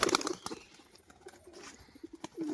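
A male tumbler pigeon beats its wings in a few quick, faint flurries of flapping, close by but quiet, with soft scattered rustles between bursts.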